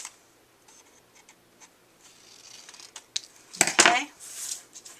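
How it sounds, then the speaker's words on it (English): Scissors trim the corners off a cardboard envelope mini, giving a few quiet snips and then one louder, crisp cluster of cuts near the end, with light handling noise in between. "now I'm just going to trim my corners off"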